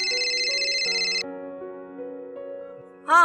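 A phone ringtone plays during a call in a Pakistani drama, a steady high electronic melody that shifts into a lower repeating tune before a sharp chime, clear and fairly loud.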